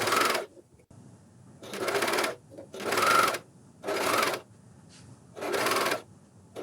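Coverstitch sewing machine fitted with a binder stitching fabric: five close, steady bursts of rapid mechanical whirring, each about a second long, separated by short quiet pauses.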